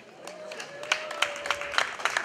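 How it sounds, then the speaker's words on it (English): Applause at a domestic violence fundraiser, a short burst of scattered clapping from a crowd that builds slightly, with a voice talking over it. "Round of applause."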